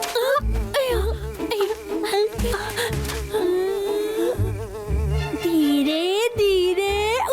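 Cartoon mosquitoes buzz with a loud, wavering whine that rises and falls through the whole stretch, close and continuous, with some rumbling thumps underneath.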